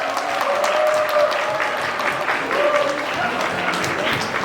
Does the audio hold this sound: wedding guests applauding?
yes